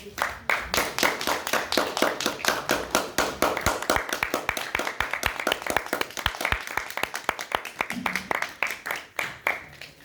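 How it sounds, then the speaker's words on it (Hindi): Theatre audience at a Lucknow play breaks into sustained applause, a dense run of sharp hand claps holding steady for about ten seconds before thinning at the end, with faint voices underneath. "तालियां ले दीजिए"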